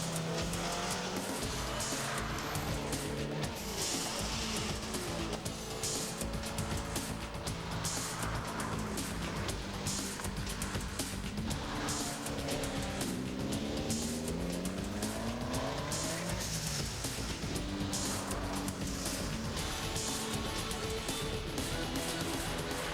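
An EVO200 kit car, a replica of the RS200, is driven hard, its engine roaring and rising in pitch through gears while tires squeal and skid repeatedly, loud and close throughout over twenty seconds.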